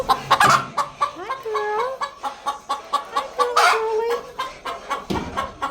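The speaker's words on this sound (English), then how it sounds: "I don't have nobody in here now except a few laying hens" A few laying hens cluck inside a coop, with repeated short clucks and drawn-out calls coming close and clear in an irregular rhythm.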